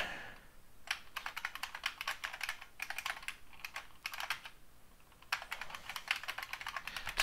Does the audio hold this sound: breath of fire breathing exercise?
no